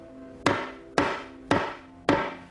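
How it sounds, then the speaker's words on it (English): A hammer strikes a piece of wood four times in an even rhythm, each blow a sharp, loud knock with a short ringing decay, close and without talk. "So if I take this piece of wood and hit it with a hammer,"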